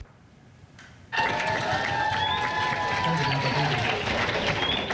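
Students at a migrant youth leadership conference clap together in a sudden dense burst that starts after a second of quiet and holds steady, sounding like a large indoor crowd applauding close by.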